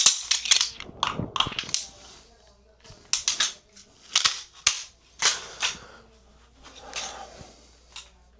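Handgun shots fired during a one-step reload drill at a shooting range: a run of sharp, loud cracks in uneven bursts with short gaps between them, and a voice speaks briefly in between.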